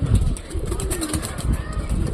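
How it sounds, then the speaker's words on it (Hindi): Pigeons coo softly on a rooftop amid rustling outdoor noise, with a brief flutter of wings and steady low background rumble. "अपने आप ही छत पे कबूतर आए जा रहे हैं"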